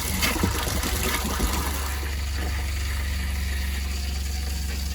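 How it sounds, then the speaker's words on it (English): Water forced out of an RV faucet on the cold side while winterizing a travel trailer, a steady close rushing spray over a low pump drone, with no talk. "That's pushing all the water out."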